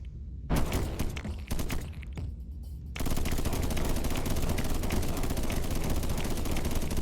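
A mini bomb fired at the queen in an insect-swarm video game, with a few sharp bursts of percussive fire giving way to a dense, continuous barrage of loud rapid blasts.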